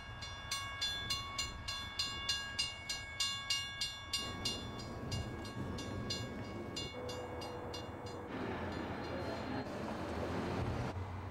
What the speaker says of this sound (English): Those coal trains are huge.